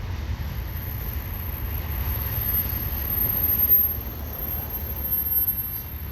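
A CN double-stack freight train rolls past at Donegani Street in Pointe Claire, making a steady, heavy low rumble that swells slightly midway and holds throughout, with no voices.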